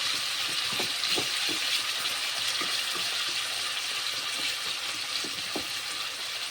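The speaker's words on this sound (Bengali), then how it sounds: "এগুলো একটু ভালো করে ভাজা হোক।" Mixed vegetables fry in a pan with a continuous, even hiss and faint crackles up close, with no talking over it.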